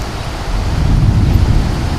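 Thunder from lightning strikes in a severe thunderstorm with high winds near St. Louis, a loud, steady low rumble with rain and wind noise throughout.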